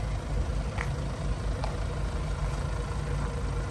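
A diesel car engine idles steadily close by, a continuous low rumble with an even throb that holds for the whole stretch without revving.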